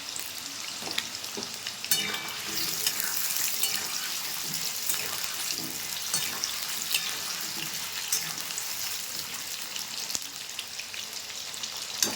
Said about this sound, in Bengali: তেলটা গরম হয়ে গেছে, আলুটা ভেজে নেব।